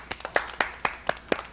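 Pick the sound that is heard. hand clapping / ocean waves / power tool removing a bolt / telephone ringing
hand clapping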